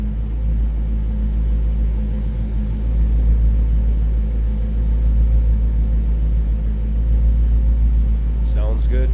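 A 1958 Pontiac Bonneville Tri-Power V8 idles and revs with a deep, steady low rumble, swelling louder midway, close by with no talking.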